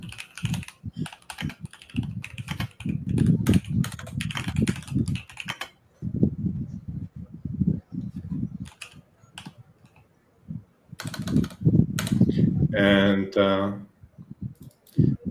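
Rapid keyboard typing with clustered key clicks, close up, broken by a short pause midway and picking up again, with a brief voice near the end.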